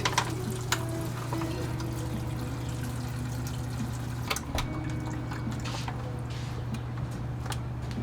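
Coolant drains from an Alfa Romeo Twin Spark engine in a Giulia, trickling and splashing steadily into a cut-up water bottle, close and continuous with a few sharper drips and a low hum underneath.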